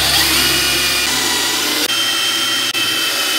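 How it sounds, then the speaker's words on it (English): A power drill runs steadily, boring holes in wood for a euro mount and shed antler display, with two brief dips where the bit pauses, loud and close throughout. "Now I'm gonna drill a hole where those 4 little holes are."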